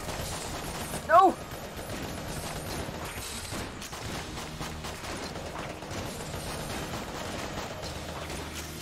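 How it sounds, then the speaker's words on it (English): Gunfire in the video game Enter the Gungeon, a steady, moderately quiet patter of shots and mechanical clatter amid game sounds, with people talking over it. "And he's up here and we're both shooting him."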